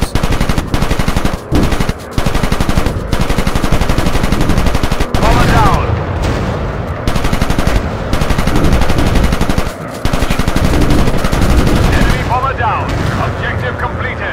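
Sustained machine-gun fire from World War I fighter planes strafing ground targets in an aerial combat game, loud and continuous rapid bursts with brief gaps, over a constant engine drone throughout.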